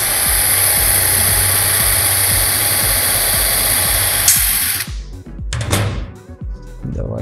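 A power drill bores a hole through a steel angle bracket at high speed, a steady loud whine with broadband grinding that runs alone for about five seconds, then stops, followed by clattering handling noises.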